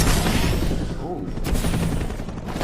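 Shotgun fire in Call of Duty: Advanced Warfare multiplayer, dense booming shots in rapid succession over continuous game noise, with a voice speaking over the action.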